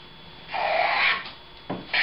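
A hand plane set for a coarse cut shaves a bevel on a piece of wood, producing one close, rasping stroke about half a second long, followed by short scraping touches.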